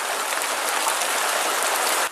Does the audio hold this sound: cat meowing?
no